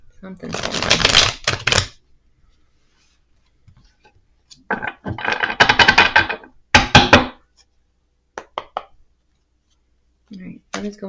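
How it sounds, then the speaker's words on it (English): Tarot cards are shuffled in quick riffling bursts, crisp papery flutters coming in several separate clusters with pauses between, close and fairly loud, a person speaking briefly around them. "Let's give it a shuffle."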